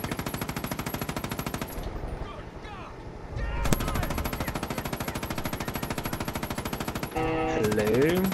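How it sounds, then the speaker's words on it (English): Vehicle-mounted machine gun on a truck in Far Cry 5 firing long, rapid continuous bursts, loud and close, with brief pauses and game effects mixed in. "It only has a machine gun."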